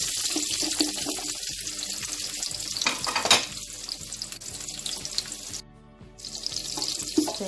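Onions go into hot palm oil in a pot for yam porridge, producing a steady, close crackling sizzle with bursts of spitting and stirring, briefly dropping quieter before the frying noise returns.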